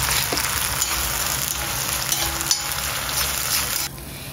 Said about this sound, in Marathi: त्याच्यामध्ये आता आपण हा मसाला ॲड करूया आणि चांगला भाजून घेऊया